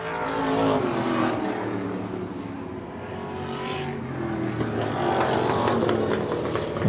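Stock race cars battle for third place at Wiscasset Speedway, a loud, sustained engine roar from several cars that swells and fades as they pass close by, with no talk over it.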